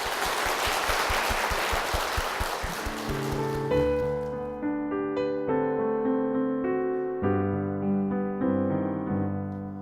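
A church congregation claps in blessing, with dense applause filling the first few seconds before it fades out as a sustained, tonal musical accompaniment begins.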